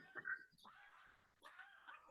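A dog gives two short, soft yelping barks, one right after the other, faint and some distance off, in a quiet room.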